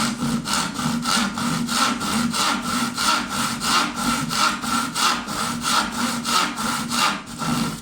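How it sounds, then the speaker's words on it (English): A hand saw cuts steadily through a wooden floorboard, with rhythmic back-and-forth strokes about four per second, close and loud, with no talking. "when you're sawing"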